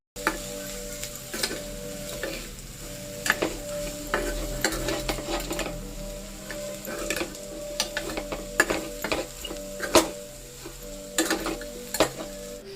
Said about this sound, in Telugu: ఇప్పుడైతే పల్లీల పొడి వేసేసుకొని ఒకసారి మంచిగా కలిపేసుకోవాలి